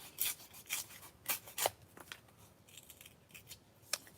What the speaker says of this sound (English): I've got a little strip here. I'm going to trim it down.